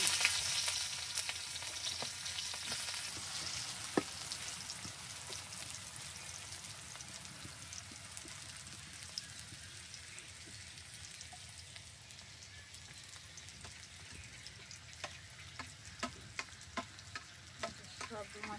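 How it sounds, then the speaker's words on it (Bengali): Onion frying in oil in a home kitchen pan, a steady soft sizzle and crackle running throughout, with occasional sharper pops and stirring clicks toward the end, fairly close and alone without talk. "না, পেঁয়াজটা একটু ভাজি হোক দিলাম তেল দিয়ে।"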